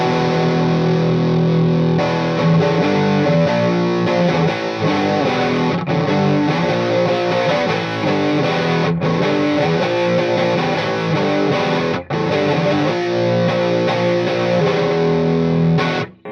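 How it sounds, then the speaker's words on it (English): A 2014 G&L Fallout electric guitar drives a Tube Screamer overdrive pedal, playing a loud, continuous run of crunchy chords and riffs with a few brief breaks, close and unaccompanied. "but here we go, tube screamer."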